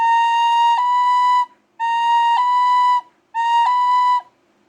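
Three separate sustained notes on a tin whistle, each about a second and a half long with short gaps between them, sound clear and bright against near silence.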